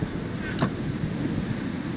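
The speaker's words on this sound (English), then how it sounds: "Starting to get a little windy." Steady rushing wind blows continuously in Minecraft, a low broadband roar with a faint gust swelling briefly partway through.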